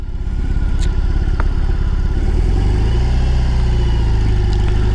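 A BMW R18 cruiser motorcycle's engine runs loud and close, with a pulsing, lumpy idle that deepens and swells into a heavier rumble partway through.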